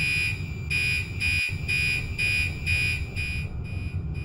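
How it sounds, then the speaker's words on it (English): Horns of an Oxeo extinguishing system in the pre-release state sound a loud, rapidly pulsing alarm tone, about seven evenly spaced beeps, with a brief thump midway and no talk. "will set the system into the pre-release state, which will be made apparent by the more rapidly pulsing tone from the horns inside the room"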